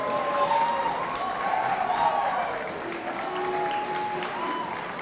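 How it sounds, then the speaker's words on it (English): Steady applause from the crowd at the 2023 Brentwood Academy senior prom, filling the room at an even level for several seconds, with a musical tone running faintly underneath. "Let's please have a round of applause for the 2023 senior class of Brentwood Academy."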